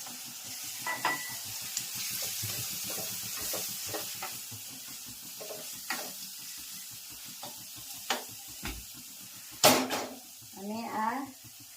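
Oil sizzling and crackling steadily in a pan as tomato tempering fries for stuffed eggplant curry, with a spoon stirring and clinking against the metal, a few sharper scrapes near the end.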